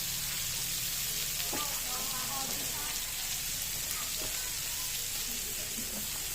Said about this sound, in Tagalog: Lalagay na ang sibuyas.